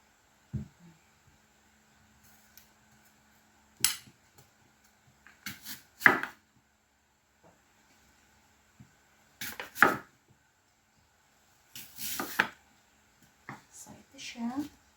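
Knife chopping apple and cucumber into cubes for an apple cucumber salad: scattered clusters of crisp cutting taps on a board, close and moderately loud, separated by quiet gaps.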